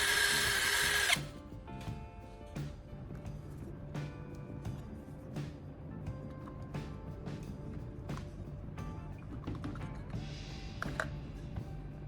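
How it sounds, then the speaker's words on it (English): A power drill bores a hole in a plastic cover, with a loud whirring burst at the start and then quieter scraping and handling sounds nearby. "Next, I need to drill another hole in the cover to create space for the splitter to fit snugly."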